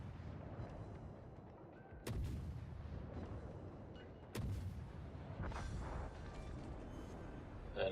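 Naval gunfire from World of Warships as shells strike an enemy cruiser: two heavy booming blasts land about two seconds apart over a constant low rumble of engines and sea, followed by scattered crackling impacts.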